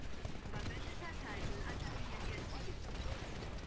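Continuous plasma raygun fire in the Titanfall video game, a dense, steady rattling barrage lasting throughout, loud and close, with a busy mix of mechanical clatter over low rumble and faint talk underneath.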